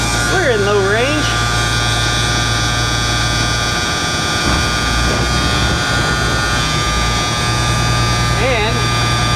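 Engine of an M35A2 Deuce military truck running steadily in low range while chained to a tree, a loud continuous drone with pitch rising and falling, and spoken voices underneath.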